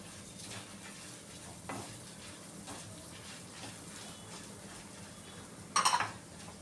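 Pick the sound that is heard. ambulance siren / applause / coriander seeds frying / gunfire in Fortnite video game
coriander seeds frying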